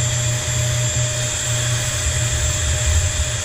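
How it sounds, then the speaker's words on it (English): A small vacuum cleaner sucks up debris inside a 2018 Nitro Z18 bass boat after an LED install, a steady high-pitched motor whine with fluttering low rumble as pieces are picked up, close and continuous. "Before I do anything else, I take my vacuum and just kind of clean up the..."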